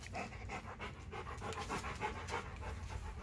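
A Rottweiler pants steadily and rapidly close by, a continuous rhythmic huffing with no talk over it.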